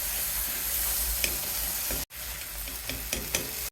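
Small freshwater shrimp from a wetland sizzle and crackle in oil in a pan, a close, steady frying hiss with occasional stirring clinks and a brief gap partway through.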